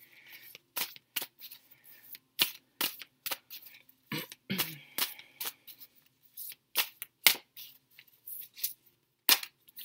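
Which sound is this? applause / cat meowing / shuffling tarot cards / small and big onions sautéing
shuffling tarot cards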